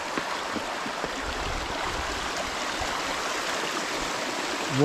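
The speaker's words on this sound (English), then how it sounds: "water is flowing down on this rock" Water flows down over rock at a bathing place in Bulutota, Sri Lanka, a steady broadband rush close by, with a faint bump at the very end.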